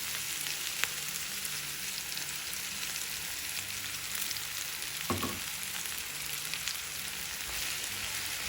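Tomato puree goes into a pan of frying cauliflower for masala curry and sets off a steady, even sizzle. A faint clink and a scrape of stirring come through near the middle.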